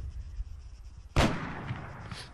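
A single sharp enemy sniper gunshot cracks close by in the Arma 3 video game, sudden and loud after quiet ambience, then rings out and fades.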